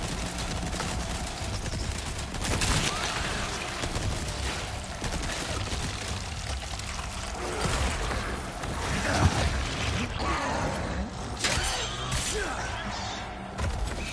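Gunfire in Resident Evil 4, rifle rounds fired at a beer-bellied zombie, as dense repeated shots and thuds over a busy game soundscape, with faint talk at moments.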